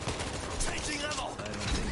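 Dense World War Z gunfire crackles steadily for two seconds in a busy game mix, with overlapping shots and voices talking over the shooting.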